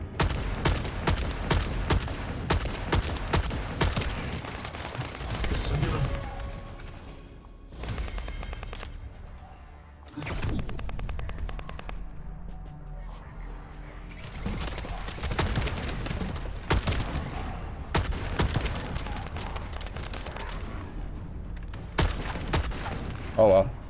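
Gunfire aimed at a shield in a video game: rapid bursts of shots and volleys, loud and close, with pauses between salvos and a voice talking over parts of it.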